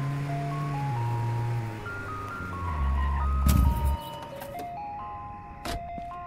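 Gas delivery truck jingle playing in a Brazilian GTA-style video game, a bright looping electronic melody of stepped tones, fairly close and steady, with game noise briefly swelling in the middle.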